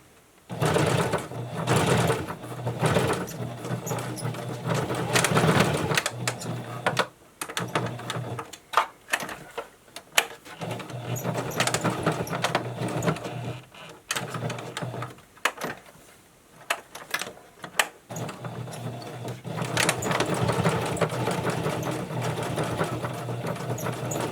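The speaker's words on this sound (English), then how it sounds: "I am going to sew in the male part of the Velcro first." A sewing machine stitches a Velcro strip onto a fabric face mask. It runs loud and close in rapid mechanical bursts, separated by brief pauses and short restarts.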